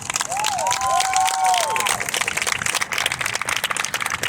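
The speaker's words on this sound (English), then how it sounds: "let's give them a big round of applause." An audience claps and cheers for a band, giving steady applause with whoops and shouts, while a voice talks over it.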